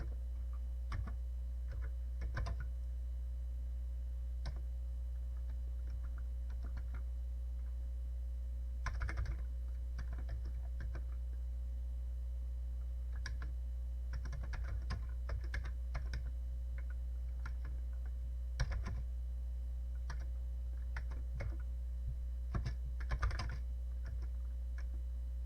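Someone types on the keyboard of an old Commodore PET computer, sounding as steady irregular clicks and clusters of keystrokes over a constant low electrical hum, with no talking.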